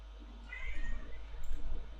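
A house cat meows twice in a row, fairly close, each call a short rising-falling cry over a low steady hum.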